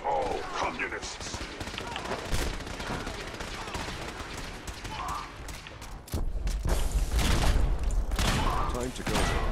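A Fallout 4 gauss rifle fires in a game, with repeated sharp shots and mechanical clanks over steady battle noise, growing into a heavier, louder burst near the end. Voices are faint or absent.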